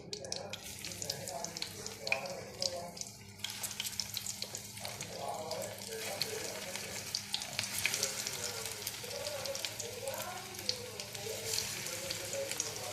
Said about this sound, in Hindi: बस इसी तरह 3-3 4-4 डाल के और ये स्टिक फ्राई कर लेना है